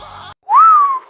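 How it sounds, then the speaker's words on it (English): A single clear whistled note slides upward and then gently falls, loud and close, following a brief burst of other sound. "I'm whistling a lot here"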